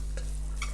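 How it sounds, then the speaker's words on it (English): Carrots frying in a pan for chakalaka, a South African relish, with a quiet continuous sizzle and a couple of short stirring scrapes over a steady low hum. "My carrots have been cooking now for the past 5 minutes"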